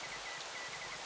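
Heavy rain pours down in a steady, even hiss with no break, fairly faint and with no voices over it.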